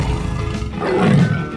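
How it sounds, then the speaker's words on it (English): A tiger in a 3D animal sliding video game lets out a short, loud, rough roar that swells toward the end, heard up close with no voices over it. "tiger"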